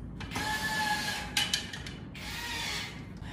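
Screws being driven one by one to mount the short poles of a ceiling-hung, fully enclosed clothes-drying rack, a steady mechanical whir with brief ratcheting bursts, close and continuous, with no talking.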